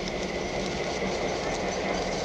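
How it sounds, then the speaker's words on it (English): Train rumbling along with steady clickety-clack and engine noise, loud and continuous, with faint voices underneath. "I'm just getting off the train, Stapleton."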